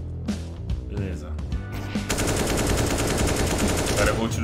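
Rapid automatic gunfire in a video game, a dense continuous burst that grows louder and fills the second half, with game sounds and someone talking underneath.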